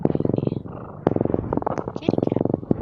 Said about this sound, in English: Maybe we can get your purring on stream.